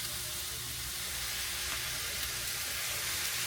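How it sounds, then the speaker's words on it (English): Shrimp fried rice with low-sodium soy sauce sizzling in a hot pan, a loud, continuous hiss that stays steady and close throughout. "And then we're going to stir up."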